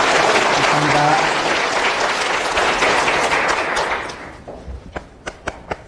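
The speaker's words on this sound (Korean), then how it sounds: "하나님께 감사의 박수 힘차게 하고 시작합시다" A church congregation applauds loudly in a dense, sustained roar of clapping that fades out near the end, leaving a few sharp, separate late claps.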